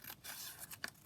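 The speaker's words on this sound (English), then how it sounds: "So just chop it along here." Scissors snip through paper for a junk journal, a couple of quick soft cuts heard close and quiet in a short moment.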